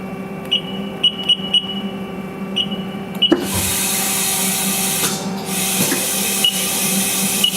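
Haas ST10Y CNC lathe, a 2018 machine with low hours, beeps a few times and then its main spindle starts with a steady whirring hiss, close by and without talking.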